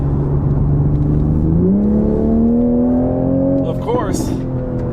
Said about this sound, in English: that sound is pure Supra